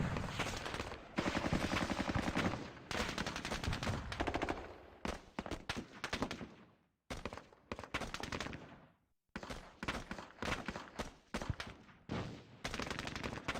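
Rapid bursts of automatic gunfire and single shots crack in a Vietnam War video game set at the Battle of Hue, with brief silent gaps between volleys.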